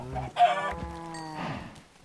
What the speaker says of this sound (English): Where's the chicken? Oh, there it is.